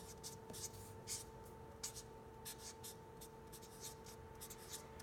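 Marker or pen scratching out an inequality by hand on a board, brief strokes in quick irregular bursts over a steady electrical hum, fairly faint and close.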